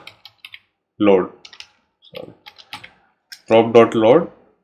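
Keys clatter on a computer keyboard as Java code is typed, with light, irregular clicks falling in the gaps between bursts of nearby talking.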